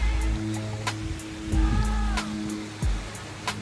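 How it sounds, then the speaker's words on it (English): A small creek flows beside an overgrown gravel hiking trail near Lake Isabel in Gold Bar, Washington, giving a steady, close broadband rush of water with a few faint knocks and a low hum. "there's like a little creek right next to me"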